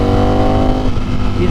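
Loud Ducati Streetfighter hyper naked motorcycle engine accelerating hard, a harmonic roar rising in pitch over about a second and a half, with a voice over it.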